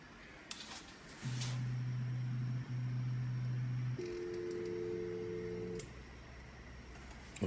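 A Creality Ender 3D printer begins a print, its stepper motors giving off steady humming tones that hold for a few seconds, then shift to a higher pitch before stopping. A quiet background hiss runs underneath.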